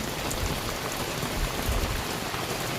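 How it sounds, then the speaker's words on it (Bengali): Steady rain pours down outdoors, a dense, even hiss of drops striking surfaces close by, continuous and fairly loud with no voices. "কি বৃষ্টি আমাদের এখানে বৃষ্টি হলে ভীষণ ভালো লাগে"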